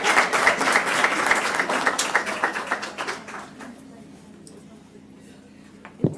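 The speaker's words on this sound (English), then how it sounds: "give her another round of applause" Another round of audience applause at a school board meeting, a dense burst of clapping that thins into scattered claps and dies away, ending with one sharp clap or knock.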